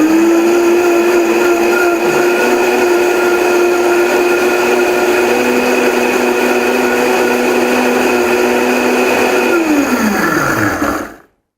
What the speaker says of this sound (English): So we want to give this a quick little bounce in the blender.